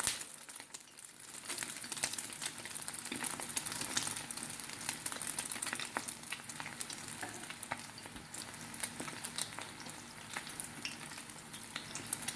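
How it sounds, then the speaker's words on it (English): Sardine omelets sizzle and crackle in hot oil in a pan, a steady dense frying hiss with sharp pops and spatters throughout, close and fairly quiet, with no talking. "Now that our oil is hot, we're going to put in our omelets."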